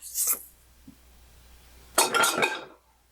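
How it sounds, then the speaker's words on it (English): A utensil clinks and scrapes against a bowl while flour and salt are stirred together for homemade dairy-free pie dough, in two short bursts separated by a quiet pause. "then you're going to mix the flour and the salt together"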